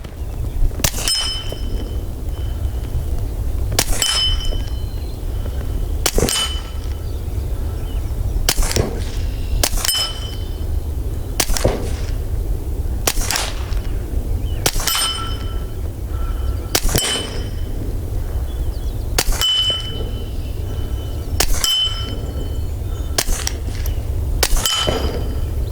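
Taurus TX22 .22 pistol firing at 6-inch steel poppers 50 yards away on an outdoor range: about a dozen sharp shots spaced a couple of seconds apart, several followed by a faint ringing clang of struck steel.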